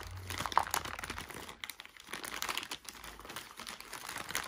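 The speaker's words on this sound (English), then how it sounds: "Let's tear into this." A foil basketball card pack wrapper being torn and crumpled, giving a run of close, uneven crinkles, snaps and rustles that keep going without pause.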